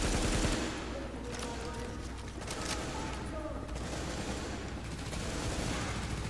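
Dense gunfire in The Division, a sustained crackling barrage of rapid shots with a heavier burst at the start, moderately quiet and continuous throughout.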